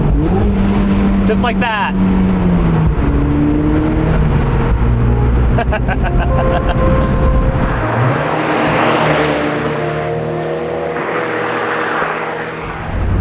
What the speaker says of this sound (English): it's just so good to go through the gears